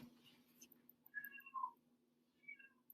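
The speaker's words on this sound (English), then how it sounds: "You hear my cat?" A pet cat meows twice indoors in a kitchen, two short nearby calls about half a second apart over a low steady hum, followed by a fainter third mew.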